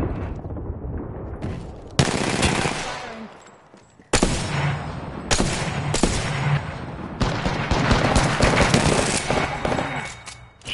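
Gunfire from a PS4 shooter erupts in loud rapid automatic bursts and single shots, clustered in several separate volleys with brief pauses.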